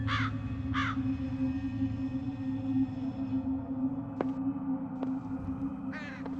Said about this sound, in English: Large black crows.